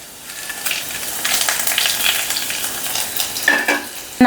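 Dried red chillies fry in hot oil as the tempering for a raw mango rasam, hissing and sizzling steadily up close, with a few stirring scrapes and a sharper clatter near the end.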